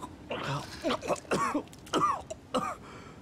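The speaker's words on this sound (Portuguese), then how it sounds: "eu tô tossindo também" Several bursts of coughing and throat clearing from a nearby person during a zombie horror game session, irregular and rasping, repeated across a few seconds.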